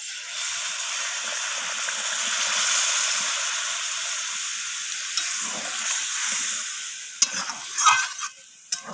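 Hot water poured into a soybean and cauliflower curry sets off a loud, sustained hissing sizzle that gradually subsides, followed by a few close clatters and stirring sounds.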